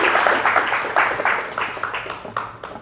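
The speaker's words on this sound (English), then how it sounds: "Can we give Paul a round of applause?" A round of applause for a guest speaker at a real estate talk, with scattered individual claps from a small group rising and tapering off, fairly close.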